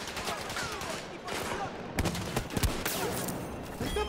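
Dense gunfire from the Battlefield 2042 video game, bursts and single shots crackling throughout with explosive thumps, alongside a voice talking under the battle noise.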